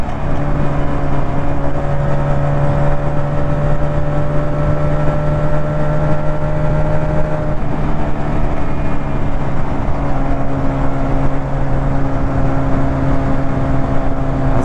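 A 125cc two-cylinder chopper motorcycle engine pulls hard through its gears, a loud, steady droning hum with pitch slowly shifting as it revs out, close and continuous.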